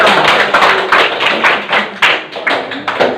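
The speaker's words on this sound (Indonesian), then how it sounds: "Tepuk tangan untuk kita semua" A classroom group claps hands together in a dense, steady burst of applause lasting a few seconds, loud and close with sharp repeated peaks.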